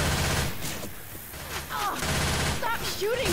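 Gunfire in Left 4 Dead 2 versus mode, dense bursts of shots running through most of the stretch, loud and close, with players talking over it and a voice calling out.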